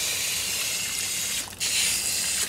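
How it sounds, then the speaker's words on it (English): Water sprays from a hose onto potted fig tree air layers in a steady hiss that cuts out briefly midway, then resumes. "So I'll water these two in."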